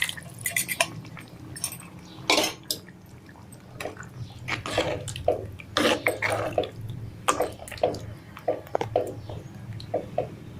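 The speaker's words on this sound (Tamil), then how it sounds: "இதில் புளியை கரைச்சதை சேர்த்துக்கலாம் இந்த குழம்புல." Tamarind water pours and splashes into a pot of dried fish curry in uneven bursts, with clinks and stirring sounds between the pours.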